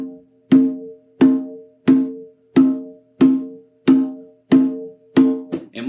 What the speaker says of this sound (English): So it should sound like this, and you'll hear the full tone of the drum.